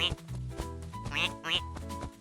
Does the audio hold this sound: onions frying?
no